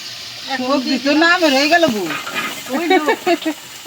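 Spices fry and get stirred in a hot pan in a home kitchen, a continuous sizzling hiss with scraping, while a voice is heard prominently over the cooking noise.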